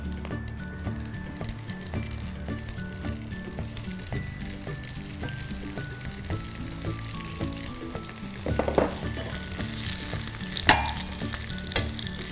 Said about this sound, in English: Again, a teaspoon or 2 of oil and add the cabbage as well.